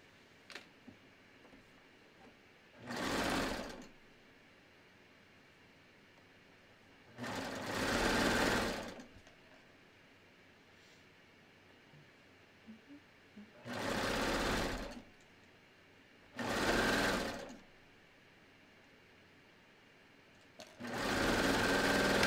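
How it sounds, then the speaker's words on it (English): Close, distinct bursts of sewing-machine stitching run along a tee shirt side seam, five short runs separated by quiet pauses, with almost no talking. "let me just do this other side seam over here"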